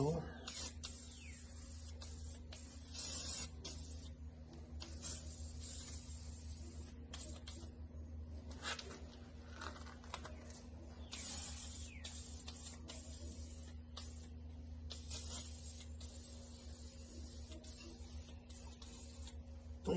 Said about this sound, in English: Now we'll spray the tire so it'll be a little easier going on.